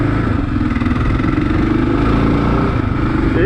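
A 2022 Kawasaki KLR 650 adventure motorcycle engine drones steadily while riding, a loud, close, low rumbling thump with constant mechanical clatter and no pauses.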